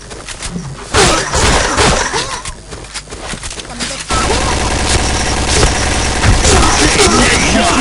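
Dense, loud bursts of gunfire from the Point Blank shooting game, rapid fusillades layered with engine-like rumble and game effects, growing fuller and steadier partway through.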